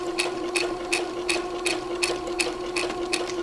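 A sewing machine stitching alongside a satin stitch runs in a quick, even rhythm of needle strikes, roughly three per second over a steady motor hum, close and alone without talk.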